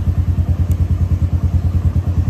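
A Suzuki GSX 125 motorcycle engine idles with a steady, even low throb of rapid regular pulses, close up and alone.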